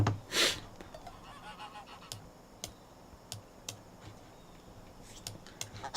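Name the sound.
geese honking in Age of Empires video game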